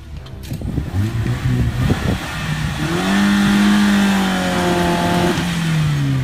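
An off-road vehicle's engine rumbles and then climbs into a sustained rising rev as throttle is applied, loud and close, with brief shouted voices at the start.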